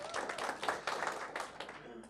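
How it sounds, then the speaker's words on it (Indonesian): Audience clapping at a TIENS business competition event, a quick uneven patter of hand claps that is fairly faint and loosens toward the end. "Tepuk tangan pada semua."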